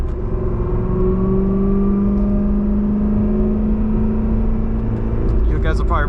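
The engine of a 2008 Chevrolet Corvette C6RS Pratt & Miller gives a close, rumbling drone whose pitch climbs gently as it pulls, steady and loud throughout.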